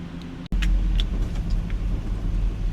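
A Mustang engine hums steadily on a dyno at a low, droning pitch in second gear after a brief cut, with a few faint higher clicks above the rumble.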